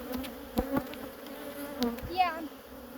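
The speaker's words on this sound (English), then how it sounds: "Let's see how you shake a hive of bees." Honey bees buzzing around an open hive during hive splitting, a steady close hum with individual bees droning past the microphone in short louder swells, and no talking.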